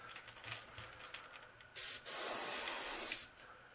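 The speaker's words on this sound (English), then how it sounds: "a little bit of this black magenta right here on the back, and just let it fall down the spine and the sides" Black magenta paint sprays onto a fishing lure in one continuous airbrush-like hiss of about a second and a half, following quieter faint hissing bursts, with no speech.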